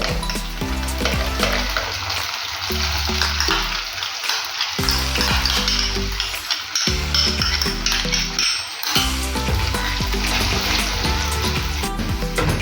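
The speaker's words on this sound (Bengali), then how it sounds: "ফেটানো দইয়ের মধ্যে জিরে গুঁড়ো, ধনে গুঁড়ো মিক্স করে কড়াইয়ের মধ্যে দেব।" Whipped yogurt mixed with cumin and coriander powder sizzles loudly in a hot kadai, a dense steady hiss with intermittent stirring and utensil scrapes throughout.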